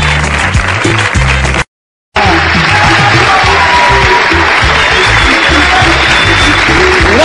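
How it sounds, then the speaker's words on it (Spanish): Studio audience applauding on a Spanish-language children's variety set, a dense steady clatter of clapping that breaks off for a moment near the start, then resumes loudly and continues to the end. "Muchas gracias por los aplausos"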